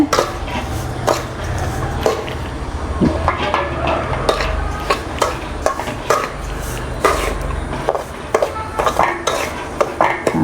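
Semolina roasting in ghee in a wok is stirred briskly outdoors, a close, loud run of repeated metallic scrapes and clinks from the spoon over a low frying rustle.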